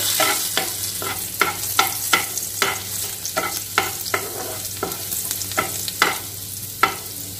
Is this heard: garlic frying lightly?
yes